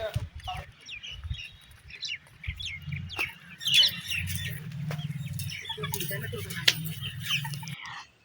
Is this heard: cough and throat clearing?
no